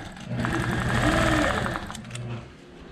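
A sewing machine quilting stitches along the outside of a V on a memory quilt made from a puffy shirt, a steady mid-pitched mechanical whir with rapid stitching rhythm, close and fairly loud, easing off toward the end.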